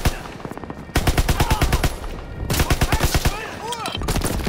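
Rapid bursts of gunfire from Call of Duty WWII set during the D-Day landing, loud, close, evenly spaced shots in two sustained volleys with a brief gap between them.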